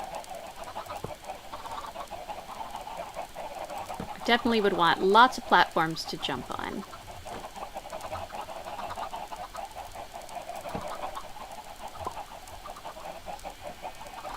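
Minecraft chickens cluck in a brief burst in the middle, softly under a person talking steadily over quiet game background sound.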